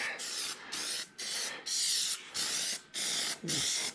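Rhythmic bursts of aerosol spray from a can laying a light first coat over car chrome trim on an Explorer being blacked out, seven steady hissing passes separated by brief pauses, close and alone.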